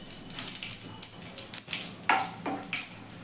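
Whole spices (bay leaf, a dried red chilli, cinnamon and cumin seeds) fry in hot oil for a Bengali mushroom dish, giving a crackling sizzle broken by sharp spatula scrapes and taps against the pan.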